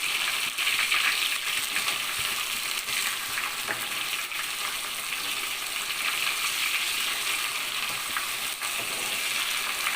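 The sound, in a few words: masala-coated mushroom pakodas frying in oil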